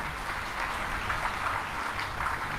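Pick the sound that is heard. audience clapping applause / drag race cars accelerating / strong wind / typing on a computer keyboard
audience clapping applause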